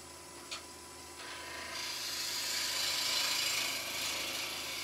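Skew chisel making light finishing cuts on a wooden bowl spinning on a lathe, a steady hissing shave that swells and stays close and continuous for several seconds.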